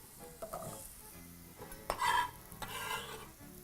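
Cauliflower is tipped into a pan of frying onions and spices and stirred, with a spoon clattering against the pan over a soft sizzle, louder scraping bursts midway.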